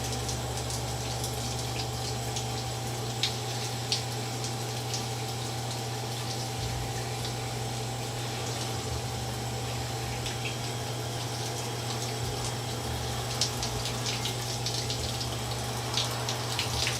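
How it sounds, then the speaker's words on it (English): Water runs onto the inside of a baseball glove as it is being broken in, a steady, continuous wash with a constant pump-like hum under it and no talk. "I just wet the inside a little bit because I do want to break this in."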